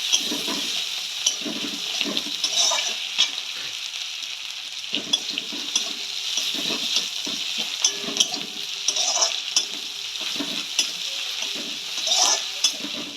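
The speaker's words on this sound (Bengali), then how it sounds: "এবার আমি এর মধ্যে টমেটো কুচি দিয়ে দিলাম সুন্দর করে মশলাটা কষাতে থাকবো" Continuous close sizzling of spice paste frying with chopped tomato, punctuated by repeated scraping strokes of a spatula stirring the pan.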